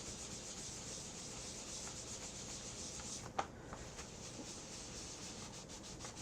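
Dye rubbed by hand into a small wooden piece, a steady soft scrubbing rasp that runs without a break, with one brief knock midway and no voices.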